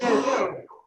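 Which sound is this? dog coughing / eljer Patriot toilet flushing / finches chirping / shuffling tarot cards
dog coughing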